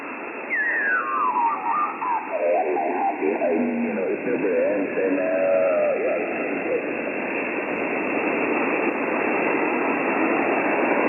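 Noisy shortwave radio static on the 20 meter amateur band: a constant broad hiss, with a warbling, garbled sideband signal sweeping through the first half before the receiver settles back into plain rushing noise.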